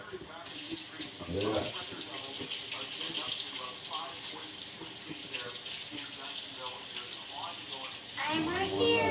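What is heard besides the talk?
hot water running from a tap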